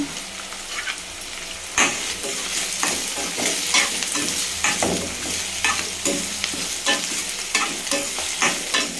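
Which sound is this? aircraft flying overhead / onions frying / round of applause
onions frying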